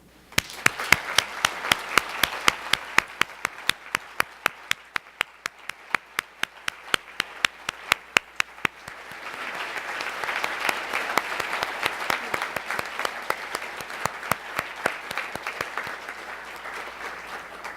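An audience at a 2018 Lavender Graduation ceremony applauds the graduates, a sustained wash of clapping with sharp, evenly spaced claps standing out on top and swelling louder in the second half.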